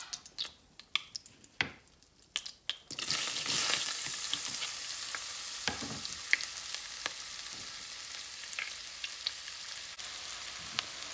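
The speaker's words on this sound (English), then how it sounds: "My butter's all melted, so now we're gonna add in the onions." Onions hit melted butter in a pan for turkey pot pie and begin frying with a loud, steady sizzle after a few sharp clicks and knocks at the start, with occasional stirring scrapes on top.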